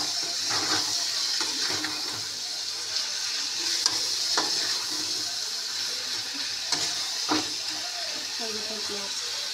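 Onion, garlic, tomato, green chilli, salt and turmeric frying in a pan for a fish curry, a constant close sizzle with scraping stir strokes and occasional clinks, and a person talking at times.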